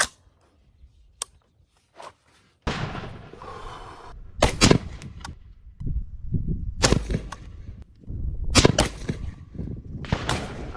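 AR-15 rifle shots fired at a red dot target outdoors: a faint crack early, then a series of loud, sharp reports with booming echoes, spaced irregularly over several seconds.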